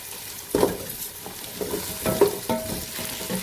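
Carrots fry in a pan with lightly browned ingredients, a close, steady sizzle with a few stirring scrapes and clacks.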